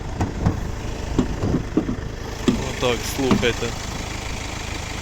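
A 2012 Kia Sportage engine idles steadily in the background while someone speaks briefly near the start, the low hum continuing evenly throughout.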